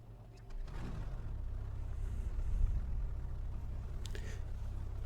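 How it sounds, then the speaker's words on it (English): A small training plane's engine cranks and catches, settling into a steady low rumble that swells slightly midway, with no talk over it. "This particular plane's engine can be a little finicky to start."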